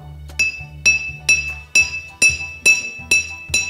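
A glass bottle partly filled with water is struck eight times in a steady rhythm, each tap ringing a clear bell-like pitched note of E that decays quickly, close and fairly loud with no talk.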